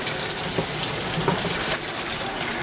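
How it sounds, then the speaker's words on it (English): Hands are washed under a running kitchen faucet after stuffing chicken, a steady broadband rush of water filling the sink for nearly three seconds with a few soft splashes, no talking. "I'm going to walk over, wash my hands."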